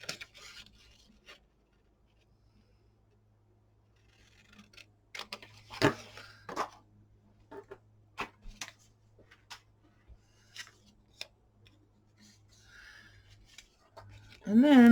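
Scissors snipping through a paper file folder while cutting along a drawn line for a collaged mini journal cover, a sparse series of close, quiet crisp snips and rustles over near silence.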